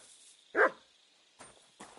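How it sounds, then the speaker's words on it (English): A single short dog bark from a dog in the video game Kingdom Come: Deliverance 2, set around Kuttenberg, rings out clearly at moderate distance, followed by faint ambient shuffles. "What are you barking for?"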